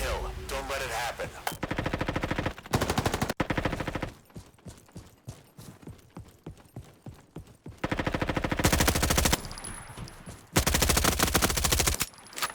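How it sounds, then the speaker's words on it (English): Rapid automatic gunfire in a Roblox shooter game, coming in loud dense bursts with quieter stretches of sparser single shots between them. A voice is heard speaking at points. "It's weird you can start shooting before you've fully aimed down sights"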